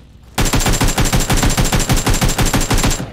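Rapid automatic gunfire in PUBG Lite, a loud, steady burst of evenly spaced shots that begins abruptly and keeps hammering for nearly three seconds without talk.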